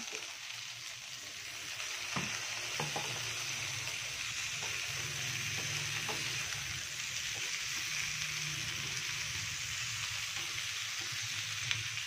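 Washed tofu added to a frying pan for vegetable lodeh, a steady hissing sizzle throughout with a few soft knocks and clinks of a utensil, no talking.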